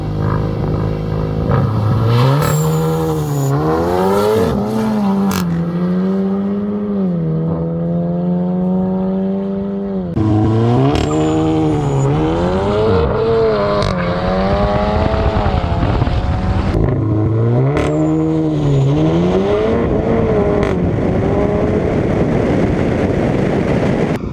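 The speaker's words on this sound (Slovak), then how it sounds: "Teraz sa pozrieme na drag race alebo zrýchlenie z miesta a oba autá sa postavia" A VW Golf Clubsport and a Renault Megane RS Trophy accelerating hard side by side from a standstill in a drag race, loud and close, engines revving up through repeated gear changes with rising and falling pitch.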